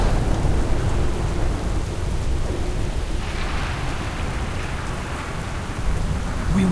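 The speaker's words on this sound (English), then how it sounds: "Warlord, this storm will soon overwhelm us." A video-game storm in World of Warcraft, with loud steady rain pouring over low thunder rumbles that swell and fade across the whole clip, with no voices.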